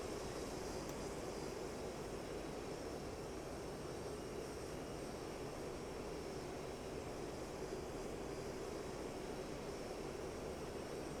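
A Mirage F1 jet engine at reduced throttle around 7,500 rpm in the DCS flight simulator, a steady broadband roar with a faint whine, continuous and even throughout at low level, without talk.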